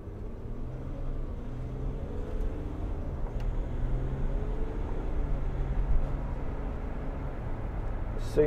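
Land Rover Discovery 4 3.0 SDV6 XS cruising on the road, a steady low engine and road rumble filling the cabin evenly throughout, with a faint knock near the end.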